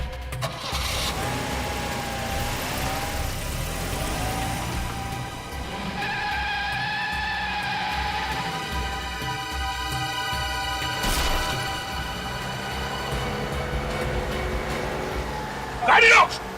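A car engine starts and revs during a police chase, a mid-pitched motor rising and falling near and loud, with a crash-like burst, under tense voices.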